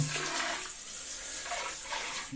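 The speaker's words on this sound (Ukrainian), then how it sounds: "А це гігієнічний душ." Water sprays steadily from a hygienic bidet shower in a bathroom, a close, continuous hissing rinse that fills the whole moment without pause or speech.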